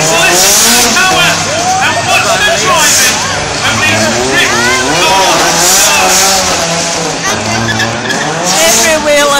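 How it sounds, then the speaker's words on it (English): Race car with 17-inch-wide rear tyres and 450 horsepower drifting, rear tyres spinning and squealing in loud wavering shrieks over engine roar, with crowd babble and an excited commentator speaking throughout. "He's going to get the tyres warmed up. Can he get the drift going? And listen to the noise, listen to the power."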